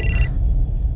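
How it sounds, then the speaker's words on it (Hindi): A telephone rings briefly with a bright electronic tone that cuts off early, leaving a low hum in the background. "मेघा का फोन"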